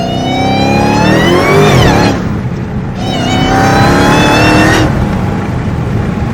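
A Dodge Hellcat with a new exhaust accelerates hard in sport mode, its engine rising with supercharger whine through two shifts, the loud roar dipping briefly between gears before climbing again.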